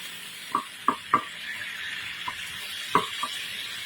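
Marinated meat for adobo fries in a pan with a soft, steady hiss. Several sharp knocks and taps from a spoon against the pan come in a short cluster early on, then twice more near the end.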